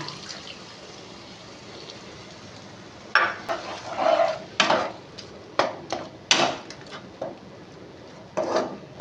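Spice mixture for a boal fish curry stirred in a pan as tamarind liquid is poured in, quiet at first, then a run of loud bursts of scraping, splashing and sizzling close up, with no talking.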